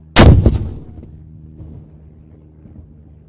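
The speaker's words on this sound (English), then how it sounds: "One gun, fire! Two gun, fire!" A ceremonial gun salute for a royal proclamation: a single loud, close blast with a sharp onset, followed by a long low rumble that dies away over a few seconds.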